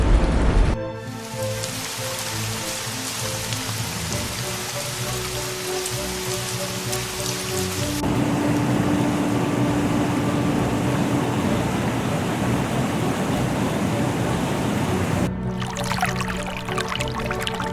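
Heavy storm rain in China pours down in a dense, continuous roar of drops hitting surfaces, loud and unbroken for the whole stretch, with abrupt changes in texture as the scene cuts between spots.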